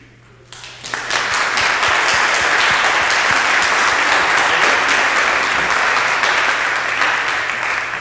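Audience applause at an indoor community presentation on human trafficking awareness, a dense, steady clapping that starts abruptly and fills the room loudly for the full length without fading.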